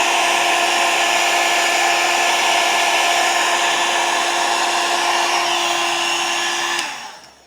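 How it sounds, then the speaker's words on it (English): A heat gun blows steadily at close range for about seven seconds while setting embossing powder on a paper dangle, its even whine and airy rush holding level before cutting off abruptly near the end. "I gotta make sure my heat gun doesn't fall off"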